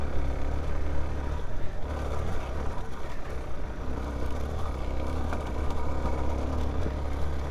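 A Suzuki DR-Z4S motorcycle engine hums steadily in third gear while riding, loud and close under low rumbling wind noise, with slight shifts in throttle and no speech.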